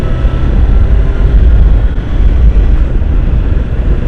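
A 2016 Honda CBR1000RR SP motorcycle is ridden at speed, its engine a steady low drone heavily buried in continuous rushing wind noise, with no break for the whole stretch.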